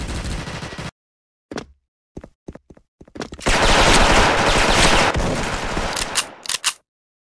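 Dual MP9 submachine guns fire in a shooting video game: a few short, sharp bursts, then a sustained loud stream of automatic fire, ending in several quick final bursts with brief silences between.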